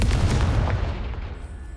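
A Confringo spell explosion in the video game Hogwarts Legacy, a single loud, close booming burst that quickly decays into a rumbling tail.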